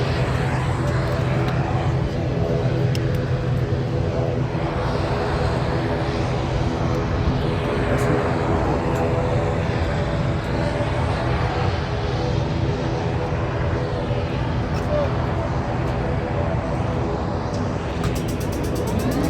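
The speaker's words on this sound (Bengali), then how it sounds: "তো হেলিকপ্টার স্টার্ট হয়ে গেছে, ইনশাআল্লাহ আমরা চলে যাচ্ছি বাগেরহাট।" A passenger helicopter on a flight from Dhaka to Bagerhat runs up its engine and rotors, a loud, steady, broadband roar filling the whole stretch without pause.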